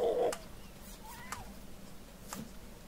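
A cat meows in The Forest video game, a short, faint call amid quiet game ambience, with a brief louder burst at the start.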